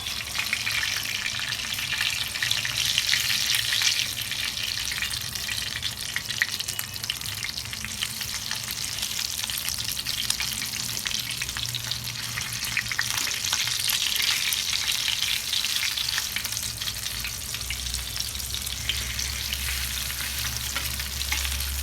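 Chicken pieces frying on a flat iron tawa, a steady loud sizzle that holds for the whole stretch, with occasional faint scraping and a low hum rising near the end; no talking.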